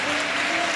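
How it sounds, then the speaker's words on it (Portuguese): A church congregation claps and applauds, a short dense wash of many hands at fairly loud, even level with no break. "eu gostaria que desse os aplausos para Jesus Cristo, porque Ele merece"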